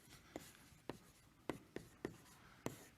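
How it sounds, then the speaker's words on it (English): Writing by hand during a computer science mathematics lecture: six short scratchy pen or chalk strokes spaced about half a second apart, faint and close, with no talking. "So let me write this down."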